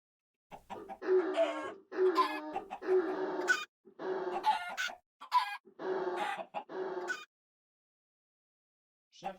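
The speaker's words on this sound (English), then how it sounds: "I can't hear you over the chickens." Chickens cluck loudly and repeatedly in a video game, bursts of clucking and squawks filling most of the stretch before a short silence at the end.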